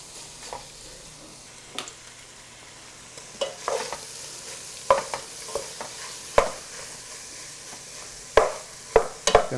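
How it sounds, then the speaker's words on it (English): Pulled pork belly sears in a pot, with a steady low sizzle broken by sharp clinks and scrapes of stirring that come in irregular bursts, loud and close, with no talking. "Gonna go ahead and get a little char on this. All right, we got a nice sear going on here."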